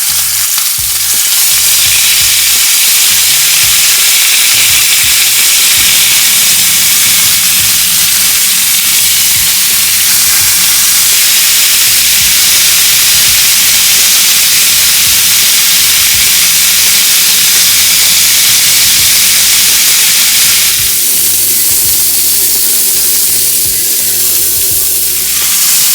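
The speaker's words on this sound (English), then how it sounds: "we're going to be browning these for about 5 minutes per side" Pork pieces brown in a hot pan with a loud, steady sizzle and hiss of frying fat that runs close and continuous throughout, with brief shifts in intensity as the meat is stirred or moved.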